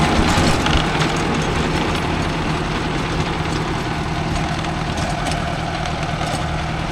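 A Mahindra Arjun Novo 605 DI tractor engine runs loud and close on farmland while pulling a rotavator, with a steady heavy diesel drone and knock that holds throughout.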